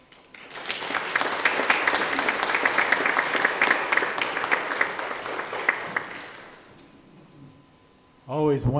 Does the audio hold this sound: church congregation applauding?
yes